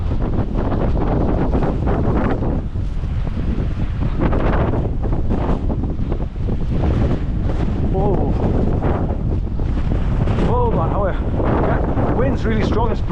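Strong gusting wind roars across the microphone beside a waterfall in a beck after days of rain, a loud continuous buffeting rumble that never lets up, with voices briefly audible under it.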